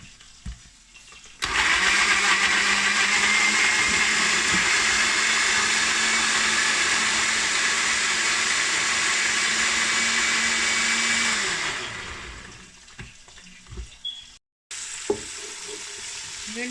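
A loud electric mixer grinder whirs steadily for about ten seconds while blending biryani ingredients, then winds down and stops, followed by a few faint handling knocks before another burst of noise.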